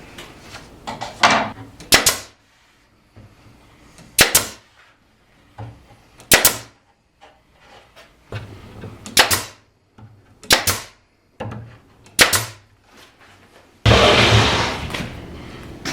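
Brad nail gun firing while tacking trim on a wooden storage shelf topper for a gun safe, a series of sharp, separate pops spaced a second or two apart, close and loud, ending in a burst of broadband noise.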